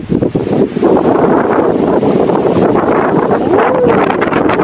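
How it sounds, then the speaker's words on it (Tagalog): Strong wind roaring and buffeting the microphone, with leaves rustling in a continuous loud gusty rush. "Lakas ang hangin."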